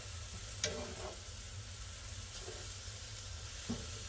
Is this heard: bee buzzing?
no